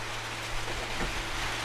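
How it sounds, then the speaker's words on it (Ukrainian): Rain falling steadily outdoors near a shelter on a rural homestead during stormy weather, a constant even hiss with no voices. "І от дивіться, йде дощ."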